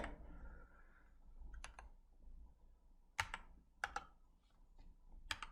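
Sparse, quiet key presses and clicks on a computer keyboard, a few isolated taps spaced apart in a calm room.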